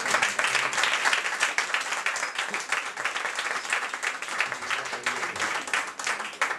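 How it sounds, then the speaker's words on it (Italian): An audience applauds a 20-year-old young author at a book event, with dense, lively clapping full of crisp individual claps that carries steadily for several seconds. "io vorrei chiedervi un grosso applauso per la ragazza"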